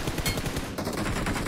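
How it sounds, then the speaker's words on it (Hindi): Rapid, dense gunfire rattles in a battle royale shooting game, a fast volley of shots fired in quick succession, loud and close, running throughout the brief burst. "भाई लेफ्ट से कौन गोलियां मार रहा है यार ऐसे"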